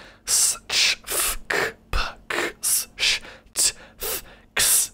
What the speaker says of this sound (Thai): มันคือลักษณะที่เราแค่ หายใจออกนะครับ หรือว่าพ่นอากาศออกจากปากเนี่ย